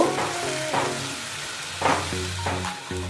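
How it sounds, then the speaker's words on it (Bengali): Spinach stirred and frying with spices in a hot pan for palak paneer, a steady sizzle broken by a few louder scraping stirs, close up with no talk. "পালং শাকটা দিয়ে আমি মশলার সঙ্গে ভালো করে মিশিয়ে নেব"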